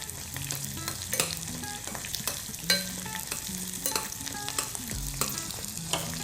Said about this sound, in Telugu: కొంచెం 2 minutes ఫ్రై అవ్వాలి